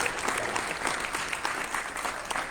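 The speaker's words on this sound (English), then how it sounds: "Big round of applause for all of our panelists." Audience applauding conference panelists after a law enforcement hiring panel: steady, dense clapping from a room of people, fairly loud and continuous throughout.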